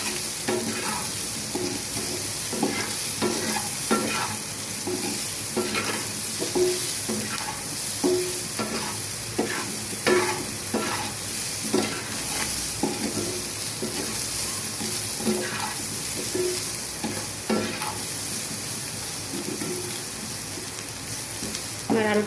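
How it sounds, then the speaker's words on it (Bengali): Potatoes tinted with saffron colour fry in hot oil in a pan for chicken biryani, a steady sizzle broken by repeated scraping stirs at an irregular rhythm, close and alone. "আমার আলুটা ভাজা হয়ে গেছে আপু।"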